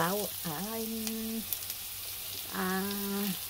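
Onions sizzle steadily in a frying pan while chicken tinola is cooked, a constant hiss under several drawn-out hummed or voiced tones.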